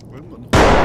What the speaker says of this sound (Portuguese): O gajo mandou uma granada.